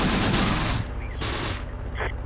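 Close Combat video game machine gun fire: a dense burst of rapid shots up front, then scattered further reports and pings as the firing tails off.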